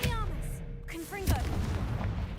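A Confringo blasting spell fires in the Hogwarts Legacy video game, a sharp explosive boom with whooshing magical tones, heard briefly amid game effects and a low background rumble.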